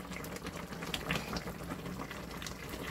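Korean spicy chicken stew (dakbokkeumtang) with mushrooms and fried potatoes simmers in a pot, giving a steady, close, continuous bubbling hiss with small pops and no talking.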